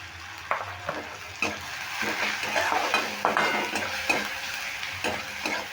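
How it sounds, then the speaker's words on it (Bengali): Turmeric, cumin and coriander powder being stir-fried in a pan, close sizzling broken by repeated scraping knocks of a spoon against the metal, several strokes in an uneven rhythm, no voices. "এবার একটু নেড়ে ভালো করে ভেজে নেব"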